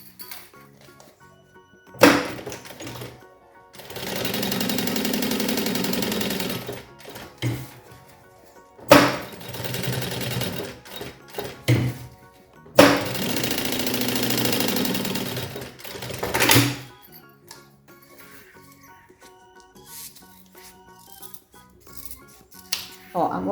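Sewing machine stitching a fabric pencil pouch closed, three loud sustained whirring runs of several seconds each separated by quiet pauses with small clicks and handling of the fabric.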